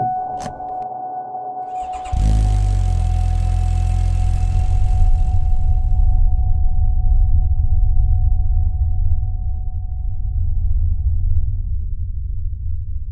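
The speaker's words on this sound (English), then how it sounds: "the latest teaser, which shows the Ridge firing up for the first time" Kawasaki Ridge four-cylinder engine firing up: a steady tone precedes an abrupt start at about two seconds, after which the engine settles into a loud, even, rumbling idle that continues to the end.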